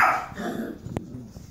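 A pug barks at a small paper origami figure indoors: one or two short, close yaps mixed with snuffling, and a sharp tap midway.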